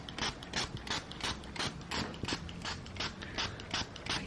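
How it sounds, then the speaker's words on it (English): An electric fabric shaver runs over a sweater, giving a steady train of quick, rhythmic buzzing strokes about three per second, close and alone with no voices. "this is my fabric shaver, and this is what I use to shave the fabric off my sweaters"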